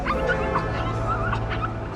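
Two dogs give high, yelping whimpers and short yips, repeated in uneven bursts across the whole stretch, close by over a low rumbling background, with no voices.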